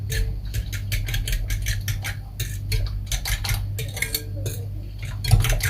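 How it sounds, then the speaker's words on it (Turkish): Crumbled white cheese mixture being whisked in a bowl, a rapid run of close metallic clicks and scrapes in an even rhythm over a steady low hum. "Şimdi çırpacağım"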